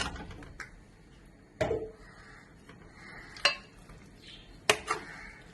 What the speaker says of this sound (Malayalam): ഇനി നമുക്ക് ഈ ചിക്കൻ ഇതിലേക്ക് ഇട്ട് കൊടുക്കാം